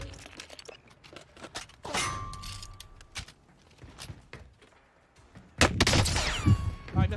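Bursts of gunfire in Call of Duty: Modern Warfare crack repeatedly, with a louder, denser volley of shots near the end amid clattering effects.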